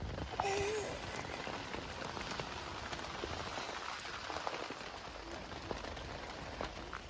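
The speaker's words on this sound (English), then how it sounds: "It has been raining most of the night, just a drizzly rain." Steady, soft patter of light drizzling rain falling continuously at night, a fine hiss with scattered drops, calm and even throughout with no voices.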